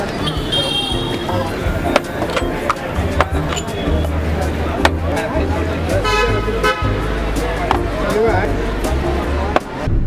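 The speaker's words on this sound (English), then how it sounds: "There's honking." Busy Mumbai street traffic with short car horn toots scattered throughout, sharp knocks and clatter, and voices chattering beneath the din.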